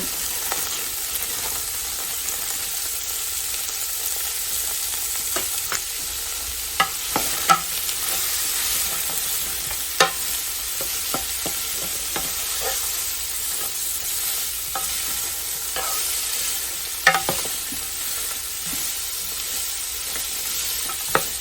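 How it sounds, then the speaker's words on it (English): Shredded carrots and celery sautéing in a pot, a steady bright sizzle with occasional sharp stirring clicks and scrapes, close and continuous, no talking. "we're going to give that a saute"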